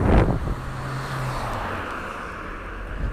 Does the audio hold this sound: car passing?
yes